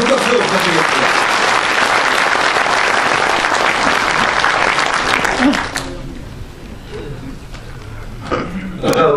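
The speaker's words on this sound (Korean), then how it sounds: "큰 박수 부탁드리겠습니다." An audience at a Korean public lecture urging judicial reform applauds as the speaker is introduced. Loud, dense clapping fills the first six seconds, then fades into murmurs and scattered noises.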